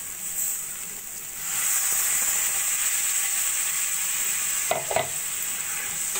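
Water poured into a pan of cauliflower frying with spices swells into a steady, loud sizzling hiss that holds for several seconds, with a couple of sharp clinks near the end.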